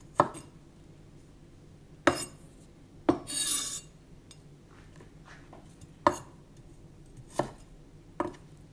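A knife slices through a small piece of fresh ginger on a cutting board, giving about six sharp, separate chops spaced unevenly, with one short scraping rasp in between, close and fairly loud in a quiet room.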